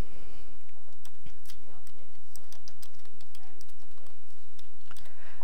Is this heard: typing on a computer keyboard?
yes